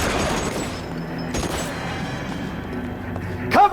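Gunfire in a shootout in L.A. Noire, sustained crackle with sharp bursts around the middle and a louder shot near the end, under a continuous game ambience.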